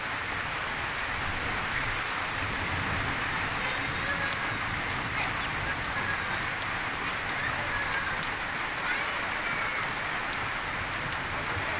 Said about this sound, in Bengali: বৃষ্টি ভাবে হচ্ছে ভালো বৃষ্টি হইব আরো